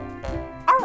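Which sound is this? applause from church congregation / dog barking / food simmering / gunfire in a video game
dog barking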